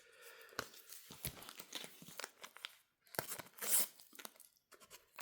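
Foil Panini FIFA 365 2026 sticker packets torn open one after another, giving close, crisp ripping and crinkling bursts with short pauses between and no talking.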